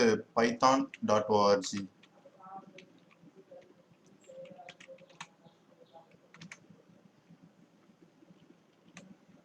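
Someone types python.org into a web browser's address bar on a computer keyboard. A voice talks briefly at the start, then soft, close key clicks follow in irregular bursts with short pauses between them.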